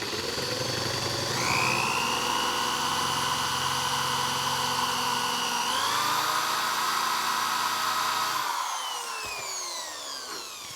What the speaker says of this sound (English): I'm gonna attempt to drill a 3/8 hole right here.